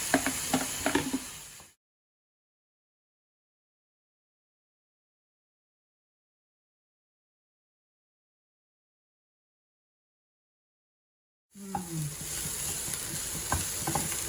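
Onions and vegetables sautéing with salt in a pan, sizzling and scraped by a spoon in two short bursts separated by a long stretch of silence.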